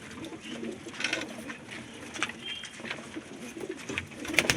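Pigeons coo at night in a pigeon loft in Kashipur, soft repeated throaty calls close by over a faint background hum, with scattered fluttering and rustling.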